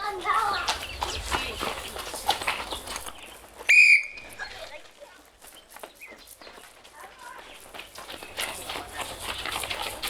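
A single sharp referee whistle blast signals a change of direction during a school physical activity session in Gabon, cutting through a noisy background of running and chatter, brief and fairly loud, then the ambient bustle continues.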